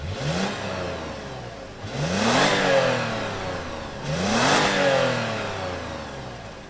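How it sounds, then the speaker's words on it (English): A 2023 Toyota 4Runner TRD Sport's naturally aspirated V6 revs twice from idle, each blip climbing sharply and falling back, loud and close with a steady hum between pulls. "Let's fire up this V6 and hear what it sounds like."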